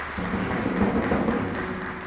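Applause rises on a children's TV studio show as a child is called up to join the others, a steady wash of clapping held at an even level throughout.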